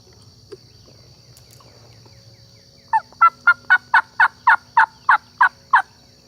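A wild turkey gobbler in spring turkey season, following a hen: a distant-sounding run of about ten rhythmic gobbling calls in quick succession over quiet woodland ambience.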